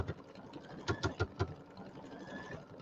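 An embroidery machine sews a big satin stitch around a small pumpkin design on a bench pillow, four quick rhythmic mechanical thumps in a row, then a steady softer whirring hum.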